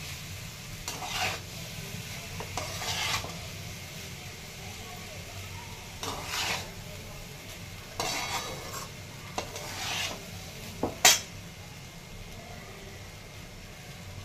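A spoon or spatula scrapes and stirs cooked rice with corn and a little salt in a pan. The scrapes come in short, uneven strokes with a faint sizzle, and a brief sharp clink is heard near the end.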